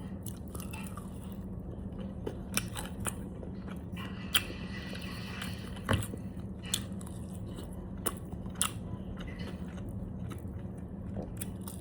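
Crunchy cooked shark meat is chewed close to the mic, with soft, irregular crunching bites over a quiet low hum and no talking.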